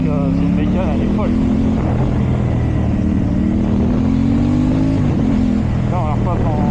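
A 2023 Aprilia Tuono 660 A2 motorcycle accelerates hard on the road, its engine note climbing through the gears in loud, close rising sweeps with brief shifts between, while a voice talks over it.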